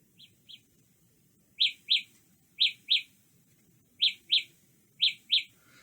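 High, thin electronic chirps from a Samsung Galaxy Buds Live earbuds locator come in quick pairs, repeated about five times at a steady pace. They are fairly soft, over a quiet background.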